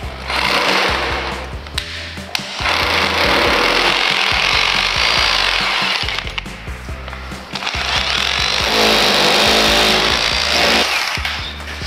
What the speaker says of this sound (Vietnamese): Khoan tường thì mình dùng máy khoan bê tông.